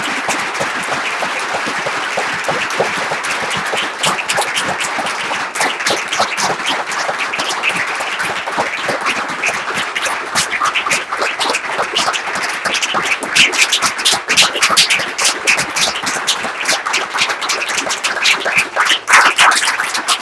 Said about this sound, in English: could everyone please join me in a round of applause for Marc Rosenblatt?